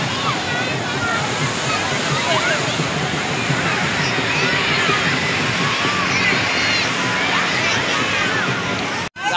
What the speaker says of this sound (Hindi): गाइस ये लहर आ रही है